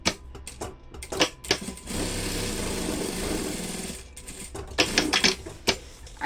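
Sewing machine stitching a seam on a bag runs in a sustained two-second burst, with clicks and short stops before and after, close and clear with no talk over it.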